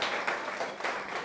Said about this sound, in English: Another round of applause for Alice Marie Johnson and Bettina Shine an